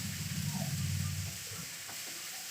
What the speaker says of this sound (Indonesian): Menggoreng udang ini kan sebentar saja, tidak lama.